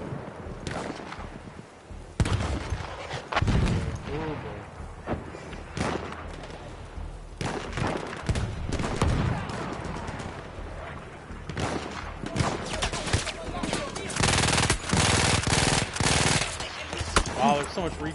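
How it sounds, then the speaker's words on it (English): Gunfire in the World War I shooter Battlefield 1: rapid machine-gun bursts and heavy rifle shots crack out repeatedly over eighteen seconds, loud and close, with thumping blasts and a voice speaking at times beneath the shooting. "there's so much recoil on these guns"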